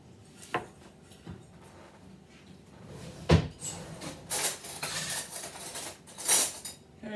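Spoon fetched from a kitchen drawer: a few soft knocks, then a louder thump of the drawer, followed by a stretch of rattling cutlery and clinks, close and moderately loud, no talking.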